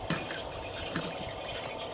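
A utensil stirs and stir-fries egg in a pan at home, giving soft scraping and light clinks of metal against the pan in an uneven rhythm, close by and fairly quiet.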